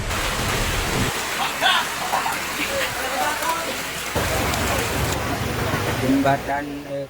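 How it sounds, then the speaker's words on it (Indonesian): Heavy rain pours during severe flooding in Situbondo, a dense, continuous hiss of downpour close by, with faint voices in the background. "Kondisi masih deras hujannya."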